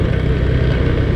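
Steady rumble of congested street traffic in Gombong, Kebumen, with idling and revving car and motorcycle engines, a dense continuous low drone close by and no voices.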